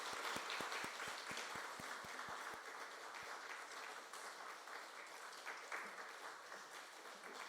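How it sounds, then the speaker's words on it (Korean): A church congregation gives a blessing applause for students facing exams, a steady wash of many hands heard faintly and at a distance, with a few sharp individual claps standing out early and some voices murmuring underneath. "우리 시험 잘 치라고 축복의 박수를 하겠습니다"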